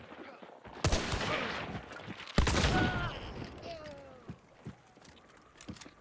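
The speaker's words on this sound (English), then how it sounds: "wait for them to run into my shot" Two loud gunshots in the game Hunt: Showdown 1896, one near 1 second and another near 2.4 seconds, each followed by a ringing decay, then softer clicks and mechanism sounds. A voice talks over parts of it.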